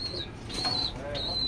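A racing pigeon beats its wings in a few quick bursts, with a faint whistling whoosh from each flap, close by, over a low background hum.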